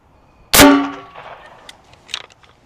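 A green tip 5.56 round strikes a stack of frying pans: one loud, sharp metallic crack and clang that rings and fades over about a second, followed by faint rattling clinks.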